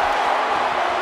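A video game arena crowd in WWE 2K17 roars steadily through a ladder triple threat match, a dense, continuous wash of cheering with no clear breaks.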